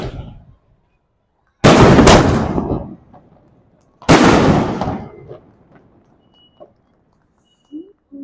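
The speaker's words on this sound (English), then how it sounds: "Those are just some standard fireworks being set to inaugurate the first match" Fireworks go off to open a youth football league match in Mumbai: two loud, close blasts a couple of seconds apart, each followed by crackling bursts that fade, then brief quieter pops near the end.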